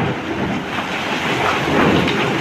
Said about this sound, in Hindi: देखो बारिश हो रही है